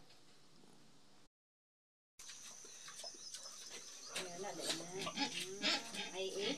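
Pigs grunt and squeal at close range on a farm, their noises starting after a short silence and growing busier and louder toward the end, with a person talking in the background.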